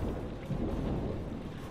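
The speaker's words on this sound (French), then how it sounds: "On peut vraiment attendre que la tempête passe." A thunderstorm in a video game, with a heavy, continuous rumble of thunder and rain that holds at a steady, fairly loud level throughout.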